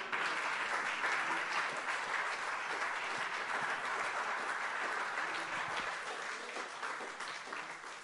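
A church congregation applauds and cheers in praise of God during a sermon, a dense, steady wash of clapping that carries on for the whole stretch and eases off slightly toward the end.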